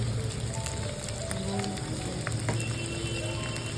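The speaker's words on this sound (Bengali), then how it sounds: "এরপর আমরা সোয়াবিন সিদ্ধটাকেও দিয়ে দেবো আর এটাকে হালকা করে ফ্রাই করে নেব" Boiled soybeans frying lightly in a pan with chicken, giving a dense, even crackling sizzle throughout, close and steady with no voices.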